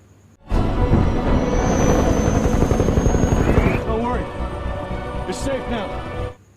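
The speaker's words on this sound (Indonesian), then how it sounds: "membawa mereka dengan helikopter" A loud helicopter roar with rapid rotor chopping fills the air, up close, then fades somewhat before cutting off abruptly.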